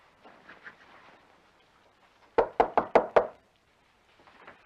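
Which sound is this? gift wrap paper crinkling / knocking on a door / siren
knocking on a door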